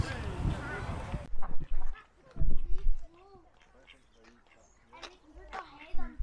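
Ducks quack at the Heads of Ayr Farm Park, with scattered nasal calls coming and going at moderate distance after a brief rush of noise and some background voices.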